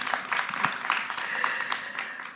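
A small audience at a retail sustainability talk claps briefly, a light scattered patter of hands lasting a couple of seconds.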